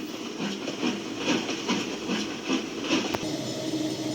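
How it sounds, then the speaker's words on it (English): A D&RGW 2302 steam locomotive pulls its train off a bridge with a steady, close hiss and rhythmic chuffing pulses, then a brief sharp click near the end. "steamed off the bridge to deliver his train and get out of Highland Valley as quickly as he could"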